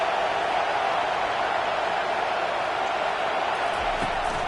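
Steady, dense roar of a stadium crowd in a football video game, a constant broad wash of noise that holds level for several seconds without breaks.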